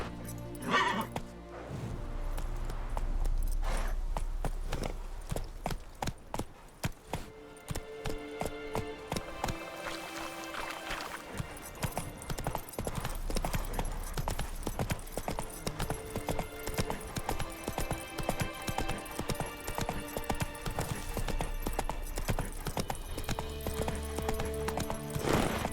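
Roach, the horse in The Witcher 3, gallops with steady rapid hoof clip-clops, broken by a whinny near the start and a brief slowdown, then resumes a continuous loud rhythm under faint game ambience.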